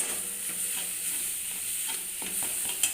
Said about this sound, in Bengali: এবার এই মশলাটার সাথেও এই ডিমের ঝুড়িটাও একবারে কষিয়ে নেব।